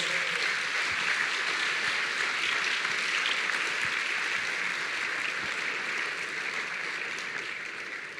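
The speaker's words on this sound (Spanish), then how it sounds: "Aplausos para esas madres." Sustained audience applause honoring mothers at a talk, a dense even wash of many hands clapping steadily throughout, tapering slightly at the end with no voices over it.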